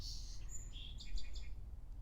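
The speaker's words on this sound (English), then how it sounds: "you hear the birds in the background" Small birds chirp outdoors, a few thin high tweets and short trilling calls, faint and somewhat distant over a low background hum.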